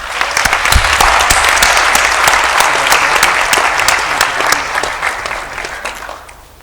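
Sustained applause from a graduation ceremony crowd honouring 14 new doctoral graduates, dense clapping filling the hall steadily for several seconds before gradually thinning toward the end.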